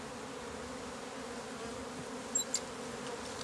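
Honeybees hum steadily during a natural hive split, a continuous close drone with a couple of brief sharper buzzes as individual bees pass near.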